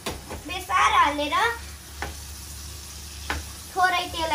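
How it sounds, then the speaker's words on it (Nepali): Food fries in a little oil with turmeric, a close sizzle interrupted by a few sharp stirring scrapes and clinks, with quieter gaps between bursts. "गाइज अब म यसलाई थोरै तेल राखेर बेसार हालेर फ्राई गर्दैछु"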